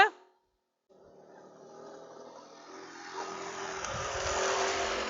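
A motorcycle or scooter engine runs close to a horse during a desensitization session, rising steadily from a quiet start into a louder, rougher idle-to-rev drone that builds toward the end.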